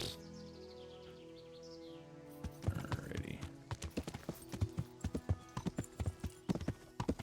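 Horse hooves clip-clopping in a fast, regular gallop in the medieval video game Kingdom Come Deliverance, starting after a couple of seconds over a steady tonal background with faint bird chirps, close and prominent with no talking.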